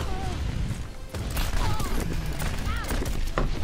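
Reaper's shotgun fire in Overwatch gameplay, a rapid series of blasts layered with game effects and music, with a player talking over the action.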